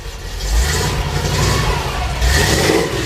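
A 1967 Chevrolet C10 4x4 pickup built up as a mini monster truck revs its engine up close, a loud, deep, steady rumble that swells twice with throttle blips and has no talking over it.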